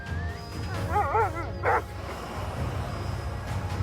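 Sled dogs yip and whine excitedly at a moderate distance on the North Pole sea ice, a cluster of high wavering cries followed by a short bark, over a low outdoor rumble.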